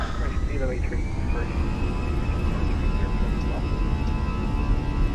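Fenix A320 airliner engines spooling up for takeoff in a flight simulator, a loud, steady roaring whine with rising tonal lines that holds for several seconds, with a voice talking over it.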